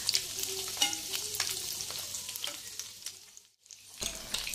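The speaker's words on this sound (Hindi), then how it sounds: "अब हम मीडियम फ्लेम पे ही अंडों को 2 से 3 मिनट तक फ्राई कर लेंगे" Eggs frying in a pan over a medium flame, a steady close sizzle with light crackles and scattered spatter pops, briefly dropping away to near silence before the frying resumes.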